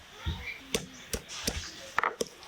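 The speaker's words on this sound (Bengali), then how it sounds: "এবার জিরে ধনে বেটে নেব" Cumin, coriander and a little ginger are ground into a paste: about six quiet, separate scraping strokes at an uneven rhythm, faint and close, with no talking.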